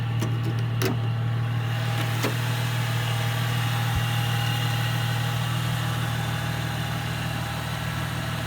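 A 2005 Mercedes C240 engine idles steadily with a deep, even hum and a constant low drone. A few brief clicks come early on, and no one speaks.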